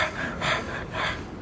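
A man imitates a war horse panting, with three heavy, breathy gasps in a steady rhythm, close and fairly loud, and no other sound around them.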